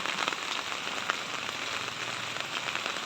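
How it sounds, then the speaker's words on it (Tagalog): Steady downpour ahead of an approaching typhoon, outdoors, a thick continuous patter of raindrops striking nearby surfaces with small irregular splashes and no speech. "lumalakas na talaga yung ulan"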